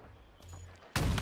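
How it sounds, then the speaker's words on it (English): Gunfire in a Halo competitive match at the HCS North American Regional Finals, a soft shot followed by a sharp, loud burst of fire at the end. "A couple of shots going down on the Penguin."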